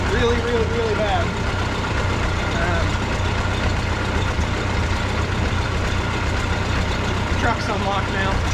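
A Model A truck's engine idles steadily up close, a continuous low rumble running the whole time with faint voices talking over it.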